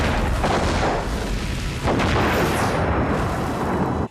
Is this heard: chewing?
no